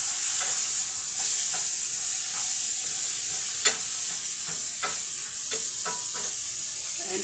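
Ground beef cooking down in a pot with a little oil, giving a constant dense sizzle close by, broken by scattered crackles and a few light stirring clicks.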